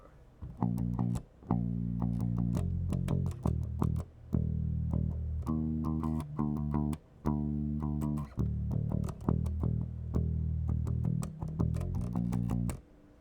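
A bass guitar plays a worship song part up to tempo, rhythmic plucked notes with octave jumps in short repeating phrases separated by brief gaps, clear and close with no talking.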